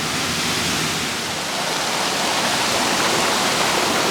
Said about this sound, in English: it's called the Hackney Wick waterfall. Apparently it always happens.